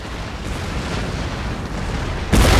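Cannon volley in Empire: Total War, a sudden heavy roar erupting near the end after a stretch of low battlefield rumble, loud and dense like massed guns discharging together.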